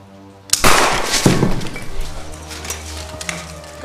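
A gunshot sound effect in a film, a sharp loud crack followed by a crashing, clattering burst and a lingering ringing tail over a low background hum.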